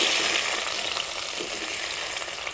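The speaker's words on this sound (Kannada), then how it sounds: "ಇನ್ನು ಆ ತುಪ್ಪ ಇರುವ ಬಾಣಲಿಗೆ ಉಂಟಲ್ಲ ನಾವು ತುರಿದಿಟ್ಟಂತಹ ಈ ಬೂದುಗುಂಬಳಕಾಯನ್ನು ಹಾಕ್ಕೊಳ್ಳುವ" Grated ash gourd hits hot ghee in a pan for halwa, giving a loud, dense, steady sizzle right up close, with light stirring scrapes under the hiss and no voices.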